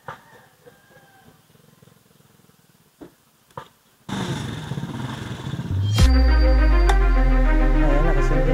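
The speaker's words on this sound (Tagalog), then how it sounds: "nakasindi na yung motor natin." A motorcycle engine, just fitted with a mini driving light, sits quiet with a few clicks, then cranks and catches, settling into a loud, steady idle close by.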